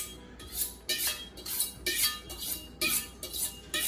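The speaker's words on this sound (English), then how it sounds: "give my knife a quick sharpen" A kitchen knife is sharpened in rhythmic strokes, about seven quick metallic scrapes evenly spaced and close up, with faint clinks between them.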